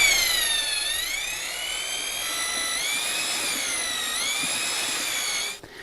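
DeWalt slow drill mixer whipping ultralight joint compound, its motor giving a steady high-pitched whine that dips and rises slightly in speed, close by, before cutting off at the end.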